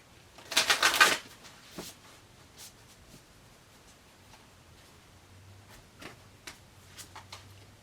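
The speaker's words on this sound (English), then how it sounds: "One more shuffle for Leo, please." Oracle cards get one quick, crisp riffle shuffle up close, a dense flurry of papery flicks lasting about a second, followed by a few soft taps and light handling sounds in a quiet room.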